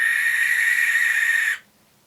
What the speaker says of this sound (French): C'est la chouette effraie.